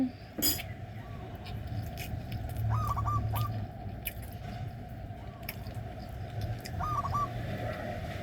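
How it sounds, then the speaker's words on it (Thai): Birds calling outdoors, a few short repeated chirps heard twice at a moderate distance over a steady background of chewing and eating noise, with little talk. "นกมาร้องให้ฟังเฉยเลย"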